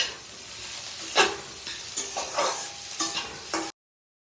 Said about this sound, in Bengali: এটা গ্যাস বন্ধ করেই ওই গরমেই নাড়ছি